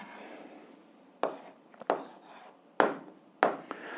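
Pen or chalk writing out an algebra answer, heard as a few short scratchy strokes in separate bursts against a quiet background, with no talking.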